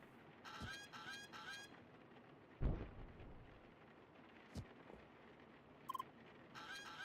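Birds honking in the video game CrossCode, with several short goose-like honk bursts in a rough rhythm over a constant game background hum, plus a few sharper thuds and clicks in between.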